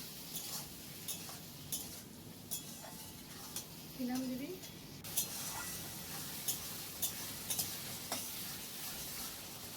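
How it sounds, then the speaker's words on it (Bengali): Chopped tomatoes and onions sizzle in a pan for mutton do peyaja while a utensil stirs them, giving soft scrapes and occasional clicks over a quiet hiss, with a brief voice partway through. "দিয়ে ভালো করে নাড়াচাড়া করে নিচ্ছি"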